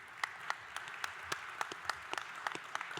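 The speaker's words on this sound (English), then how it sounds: "One more round of applause for this group that's put this together" An audience at a community event applauds, a quiet, fairly sparse patter of individual claps with distinct sharp hits scattered across a few seconds, somewhat distant.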